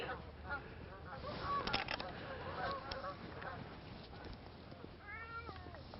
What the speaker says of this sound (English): That's a pretty big flock of geese heading away